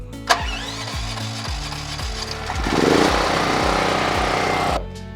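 A DuroMax portable home backup generator running on natural gas cranks with a few sputtering turns, then catches and settles into a loud, steady engine drone before it cuts off abruptly.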